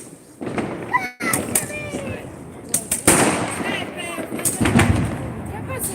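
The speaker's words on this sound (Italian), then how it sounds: "è la maggior parte fuochi d'artificio a finale" New Year fireworks and firecrackers burst repeatedly in a rapid, crackling barrage of sharp bangs near and far, while people talk over the noise.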